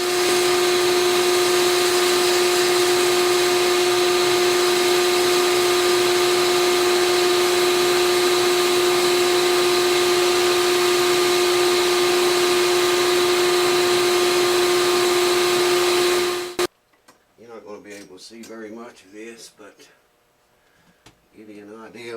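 A vacuum dust collection system rigged at an acoustic guitar bridge, a loud steady motor drone with a strong whine that cuts off abruptly, followed by someone talking.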